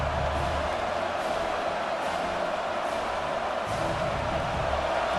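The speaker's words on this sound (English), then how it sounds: "listen to this crowd noise. This stadium is vibrating." A dense, roaring stadium crowd in a college football video game fills the air continuously, a broad steady wash of cheering voices with no pauses.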